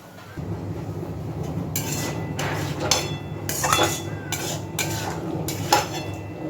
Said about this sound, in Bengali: এবার খুব ভালোভাবে নেড়েচেড়ে মিশিয়ে নেব